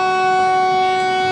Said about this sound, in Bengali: এবার আমাদের ট্রেন ছেড়ে দিল।